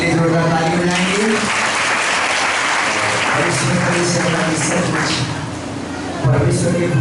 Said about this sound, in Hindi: दास के लिए जोरदार ताली बजाएंगे